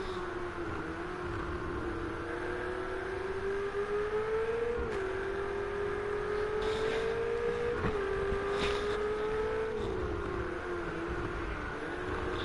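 Ferrari race car engine in a racing video game at Catalunya, a steady loud drone that rises in pitch through the gears, with brief drops at each upshift before climbing again, continuous throughout.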